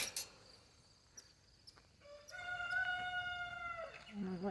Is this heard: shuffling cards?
no